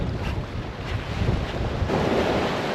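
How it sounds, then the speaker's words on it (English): Rough ocean surf pounding a Florida beach under strong gusting wind, a loud continuous roar of crashing waves and buffeting wind noise across the microphone, no voices. "The waves are getting ferocious and the wind's really blowing."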